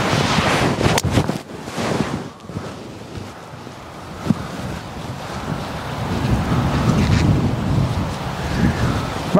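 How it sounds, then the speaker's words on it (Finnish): Strong gusty wind on a golf course buffets the microphone in loud, continuous roaring waves that swell and ease over several seconds, with no talking. "On semmonen puhuri, ettei mitään järkeä."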